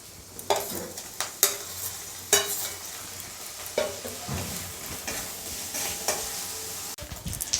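Onion and garlic with ginger paste and green chillies sizzle steadily in oil in a pan while a spoon scrapes and stirs in repeated sharp strokes, close and fairly loud.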